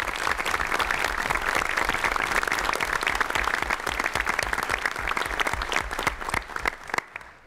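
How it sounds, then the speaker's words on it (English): An audience at a press conference breaks into loud, sustained applause, with dense clapping throughout before it thins out and stops at the end. "Let's give her a round of applause."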